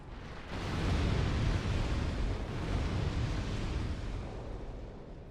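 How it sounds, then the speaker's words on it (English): A deep rumbling roar of explosions filling a room in Dark Souls II, swelling suddenly and holding as a broad, noisy boom that slowly fades. "His shoulder lava will detonate everything."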